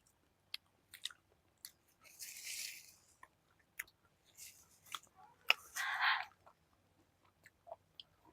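Someone eats chicken snacks cooked outdoors in a forest by a reservoir. The chewing and biting is close and quiet, with soft crunches and wet squishes coming in irregular bursts and short pauses between them.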